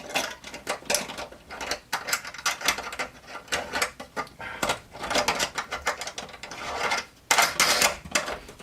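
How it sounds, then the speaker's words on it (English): A knockout is struck out of a metal electrical box during a solar system installation: a series of sharp metallic taps and clanks in irregular bursts, close and moderately loud, with no talk. "So I'm going to hit this knockout hole"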